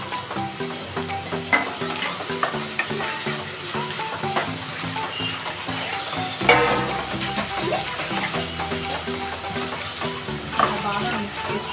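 Ginger garlic paste frying and being stirred in a pan for Telangana bagara rice and aloo curry, a steady hiss with repeated scraping strokes and occasional clinks, close and continuous.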